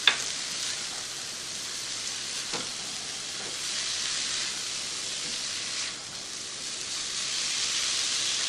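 Onions fry with salt in a pan for a spicy chicken curry, producing a steady, moderately loud sizzle and hiss with occasional soft stirring scrapes, unbroken for several seconds.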